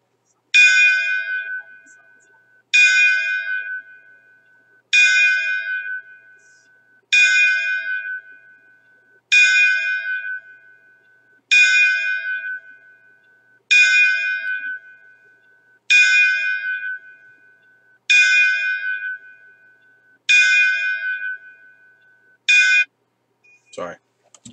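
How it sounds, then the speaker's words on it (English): A ringing bell strikes eleven times at an even, unhurried pace, each clear metallic tone decaying before the next, alone against near silence, with a short rustle at the very end. "the 10 bell salute"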